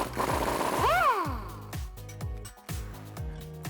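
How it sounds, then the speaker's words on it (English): An 18mm socket and wrench work loose the sway bar end link on a Jeep Wrangler JK 2-Door: rapid ratchet clicks come in short repeated bursts. A brief squeaky rising whine sounds near the start. "I'm going to be using an 18mm socket and wrench to take off that first sway bar end link"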